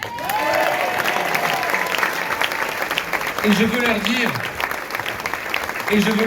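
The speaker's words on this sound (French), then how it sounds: "Et on applaudit Michel." Crowd applause at a political rally in Marseille, a dense sustained clapping that continues while someone speaks over it through amplification.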